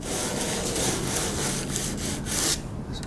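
A block sander with a business card fixed to its end is worked over mid-century modern blonde wood furniture in a filing motion, steady close rasping strokes that stop abruptly near the end.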